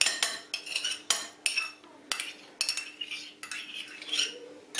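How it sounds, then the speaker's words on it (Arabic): A spoon stirs dark chocolate pieces with yogurt in a saucepan, giving repeated clinking and scraping strokes against the pan in a steady rhythm, close and fairly quiet, with no voices. "كنبقى نخلط نخلط حتى كيذوب الشوكولات"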